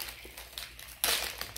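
Plastic snack wrapper on a Japanese snack being torn open by hand, a loud crinkling burst partway through after quiet rustling, close by.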